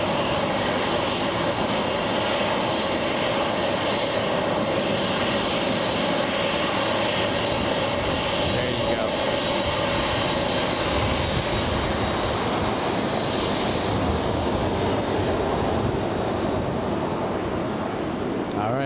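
A Lufthansa airliner's jet engines roar steadily at LAX, a broad, continuous whine and rumble that holds for the whole stretch with a faint voice underneath.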